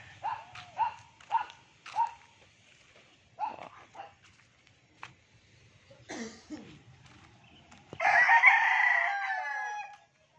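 Several short clucks and squawks come from nearby young stag roosters, then a rooster lets out a loud, drawn-out crow near the end.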